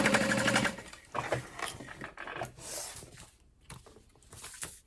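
A sewing machine runs stitching a handbag seam with a backstitch, in several bursts of whirring, stopping and restarting close by with short pauses between runs.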